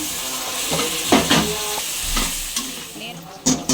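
Mutton dropped into fried onions in a pot for a Telugu-style curry sizzles loudly and steadily while a spoon stirs and scrapes in uneven strokes, with sharper clatters near the end, close up and without speech.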